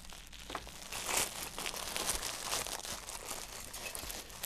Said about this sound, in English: I'm gonna take my razor blade again. I'm gonna cut this open so that way we can get the brackets out.